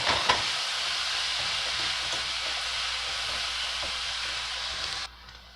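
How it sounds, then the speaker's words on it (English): Onions and green peppers sizzle in a hot pan, a loud, steady hiss from close by that runs without a break, then cuts off abruptly near the end. "get your onions and green peppers sauteed real nicely"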